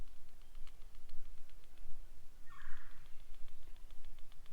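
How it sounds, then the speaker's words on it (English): A distant wild turkey gobble rattles briefly in the middle, heard once over steady outdoor background noise with faint bird calls at an Iowa state park. "The turkeys are gobbling"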